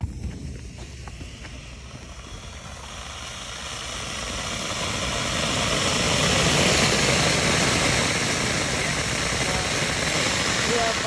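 A loud, continuous roaring hiss from a 3D-printed sugar rocket motor firing outdoors swells and holds steady for several seconds, broadband and rough, with faint voices underneath.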